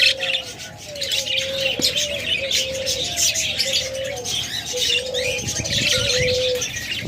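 Pet budgerigars, cockatiels and lovebirds chirp and tweet continuously in a dense, overlapping chorus, with some cooing calls mixed in, close by and steady throughout.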